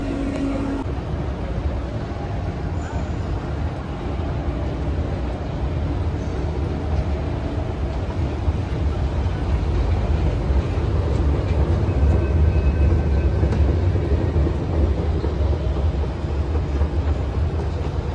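A metro train pulls into a station, producing a steady, loud low rumble with a broad roar of wheels and machinery that swells slightly toward the end and continues for the whole stretch with no voices.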